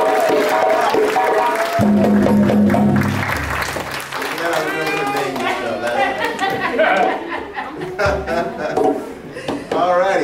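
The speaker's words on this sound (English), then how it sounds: "nice big round of applause" Audience applause for Mama Andrea, a dancer with the Soul In Motion African Dance & Drum troupe at a library performance, with clapping and crowd chatter layered over music and drumming.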